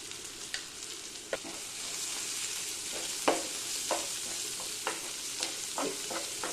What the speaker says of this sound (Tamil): இப்போ மஞ்சத்தூள் போட்டு நல்லா வதக்கிடுங்க